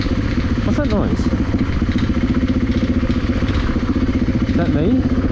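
Motorcycle engine pulsing steadily at close range while riding around a campsite at an adventure bike festival, with a voice speaking over the throb.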